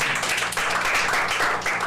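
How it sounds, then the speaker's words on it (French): Audience at a school reading contest clapping, a brief dense round of applause from a crowd close by. "Applaudissez s'il vous plaît"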